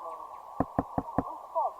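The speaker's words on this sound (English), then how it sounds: "Another round of knocking." Four sharp knocks on a door in quick, evenly spaced succession, fairly close and loud over a low steady hum, followed by a brief rustle.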